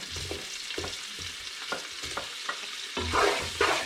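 Fried rice with garlic salt and garlic sausage is stir-fried in a hot pan: a close, crackling sizzle with repeated rhythmic scrapes and tosses of the spatula, swelling louder near the end, and no speech.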